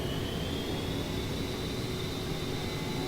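The twin jet engines of an A-10A Warthog spool up in DCS World, a steady broad roar with a faint rising whine, held at constant loudness for the whole stretch with no voices.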